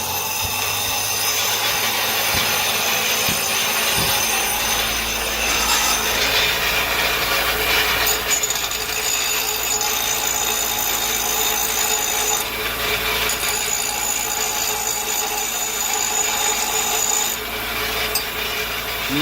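A power tool grinding and rounding the corners of a transmission mount, a continuous harsh rasping whir that shifts in pitch as the tool bites and eases, with no talking.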